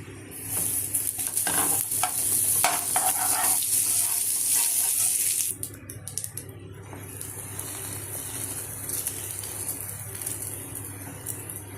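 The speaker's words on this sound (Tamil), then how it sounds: "தவாலை கொஞ்சம் பட்டர் விட்டுட்டு நம்ம வந்து பாவ் வந்து நல்லா ஃப்ரை பண்ணிக்கணும்" Pav bread frying in butter on a hot tawa gives a close, steady sizzle with stirring and scraping. The sound settles into a quieter hiss partway through.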